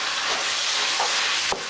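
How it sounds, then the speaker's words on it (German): Food sizzles steadily in a frying pan on the stove for a ramen dish, a close, even hiss with a brief scrape near the end and no talk. "Anbraten ein paar Minütchen."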